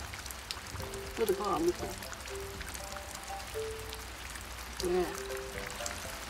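Steady rain falling outdoors on a rainy day, a constant broadband hiss of pouring drops throughout, with people talking softly over it.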